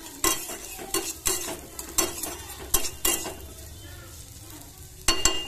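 Vegetables fry lightly with salt and turmeric in oil in a kadai, with a soft steady sizzle broken by repeated scrapes and clinks of a spatula against the pan.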